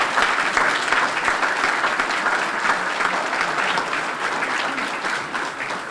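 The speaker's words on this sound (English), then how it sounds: "Let's give them a round of applause" Sustained audience applause for retired police officers at a police department promotions and retirements ceremony, dense steady clapping from a crowd lasting the whole stretch.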